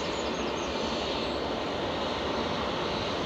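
A Boeing 787-8 jet landing at Manchester Airport, heard as a steady, broad roar of engine and air noise that holds even and loud for the whole stretch without a break.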